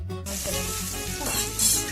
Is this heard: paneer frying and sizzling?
yes